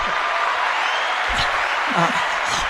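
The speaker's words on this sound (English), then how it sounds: "Hold the applause" An audience claps and cheers to welcome Tony Troy onstage, a steady wash of noise with voices underneath and a couple of brief low thumps.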